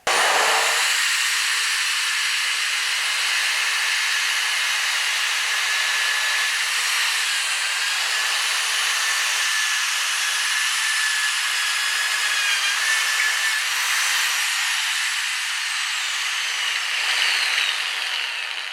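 An Evomag42 magnetic drill cuts through a steel workpiece with anchor lube, a loud, steady motor whine with grinding cutting noise lasting throughout, with no talk over it.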